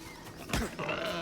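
Pigs in the video game Nightingale give a short grunting squeal near the middle of a brief moment, over low game ambience, with no talking.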